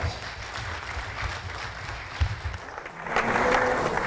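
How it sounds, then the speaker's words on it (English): Applause from an audience at a government inauguration event, moderate clapping with low thumps that swells and grows louder toward the end. "So let's give him a big round of applause."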